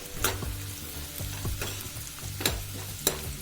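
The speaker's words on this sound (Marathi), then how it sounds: "हिंग आपला कांदा थोडा शिजू देऊया" Onion frying with asafoetida and turmeric in a pan for a sour-sweet colocasia curry, soft sizzling broken by several sharp scraping stirs in quick succession.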